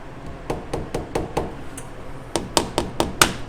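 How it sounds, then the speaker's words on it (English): A rubber mallet knocks on the valve cover of a 2012 BMW R1200 RT motorcycle, giving about ten short, dull taps in two spaced bursts, moderately loud and close, with no talk. "It's just a rubber mallet."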